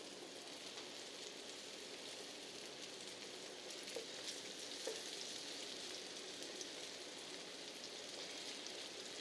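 Pineapple ginger chicken nuggets frying in a pan, a faint, even crackle of hot oil that holds steady throughout with only a couple of small pops.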